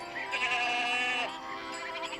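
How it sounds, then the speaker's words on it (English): Goats bleat as they are brought down from the pasture in a film scene, a couple of close, wavering cries following one another with no speech over them. "How did you know Peter would be coming with the goats?"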